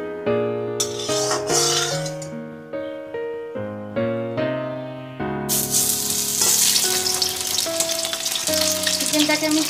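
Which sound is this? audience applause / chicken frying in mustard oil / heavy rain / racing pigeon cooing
chicken frying in mustard oil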